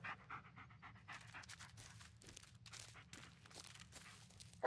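A dog in the Blair Witch video game pants rapidly and rhythmically, close and fairly quiet, with faint footsteps and no speech.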